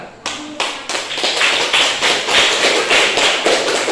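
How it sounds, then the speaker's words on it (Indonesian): Applause in a classroom as students clap their hands, a steady dense patter of many hands that starts abruptly and holds loud and close throughout, with no voices over it. "kita berikan tepuk tangan pula"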